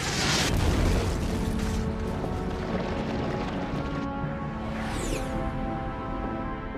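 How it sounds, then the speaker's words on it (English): Comet and asteroid impacts on the early Earth land as deep, loud rumbling booms, a heavy blast at the start rolling into sustained thunderous roar with a whooshing sweep later. "our planet was constantly battered by comets and asteroids"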